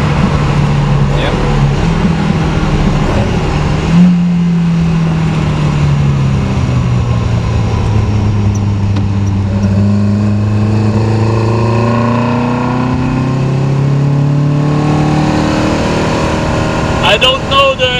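A BMW 2002 engine drones loudly and continuously on the Nürburgring, its pitch sweeping down and back up through gear changes and revving, with a voice faintly talking over the engine.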